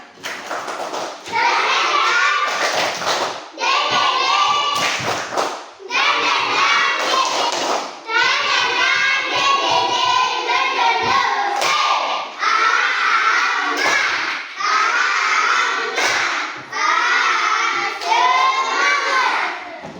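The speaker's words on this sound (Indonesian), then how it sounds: "tepuk semangat" A group of schoolchildren performs a rhythmic spirit clap, sharp bursts of clapping in a patterned beat while their voices chant loudly and steadily along with it, close and energetic throughout.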